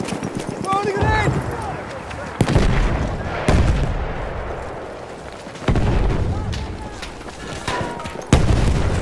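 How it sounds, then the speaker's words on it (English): A grenade blast in the World War I shooter Battlefield 1 among several loud, sudden booms and bursts of battle noise, with voices shouting over the fighting. "Throwing a grenade!"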